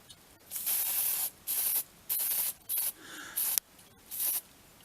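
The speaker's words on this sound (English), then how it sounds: "Allow about an hour between coats and also spray paint in a well ventilated area." Plastic Coat metal hammer finish spray paint being sprayed from an aerosol can onto parts of a GEC BC5445 vintage radio during restoration: six loud hissing bursts of about half a second to a second each, separated by short pauses.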